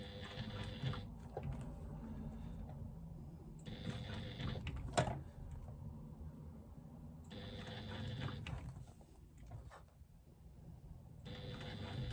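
A hand-cranked sewing machine stitches a strap connector on a retro clutch bag, giving soft, quiet bursts of mechanical whirring that start and stop in short runs with brief pauses between them.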